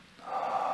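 A single deep in-breath during a guided relaxation exercise, a soft airy inhale that swells and holds steady, close and alone.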